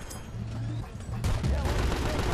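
Gunfire rattles in Battlefield: Bad Company 2 as a dense, loud burst of shots swells in the second half, over rumbling battlefield noise and game sounds.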